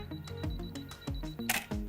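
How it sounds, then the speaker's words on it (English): A Canon 5D Mark IV fires its shutter on an interval timer, giving a quick series of crisp mechanical clicks close to the microphone. "To start your interval timer, you simply just hold the shutter button to take the first photograph."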